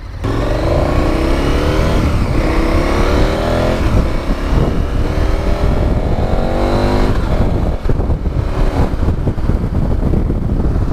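KTM Super Adventure 1290 motorcycle engine heard while riding, a loud continuous drone with rising and falling revs through several gear changes, wind rush close throughout and no talking.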